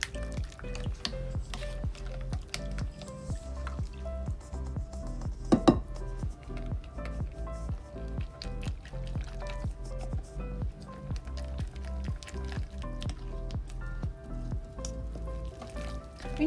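Flour gradually mixed into apple and pineapple mini cake batter in a bowl, a continuous wet squelching and stirring with steady repeated scraping strokes, fairly quiet and close, with no talking.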